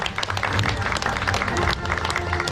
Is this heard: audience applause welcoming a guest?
yes